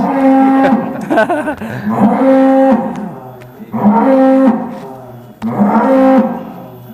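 A bull named Stalone moos loudly in a barn, three long, deep, powerful bellows close by with short pauses between them, no talking.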